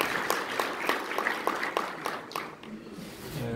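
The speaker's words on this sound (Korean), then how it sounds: "여러분들 박수로" An audience at a forest-themed symposium discussion in Korea applauds, with steady, moderately close clapping that thins out and fades after a couple of seconds, joined by faint voices near the end.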